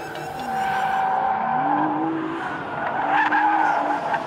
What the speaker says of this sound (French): Allez, un peu de glisse maintenant avec cette GT-R quand même